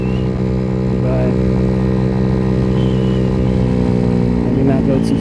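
A 50cc Venom X18 motorcycle rides through a quiet neighborhood, its small engine holding a steady, close buzzing drone while the rider talks over it.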